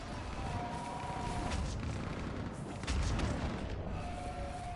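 Artillery fire support pounding a battlefield in Mass Effect, a steady low rumble of booms and distant blasts, with a heavier thudding impact about two-thirds through.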